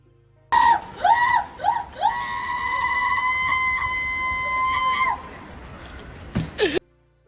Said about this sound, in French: Et il a bloqué la porte, et la nana hurle.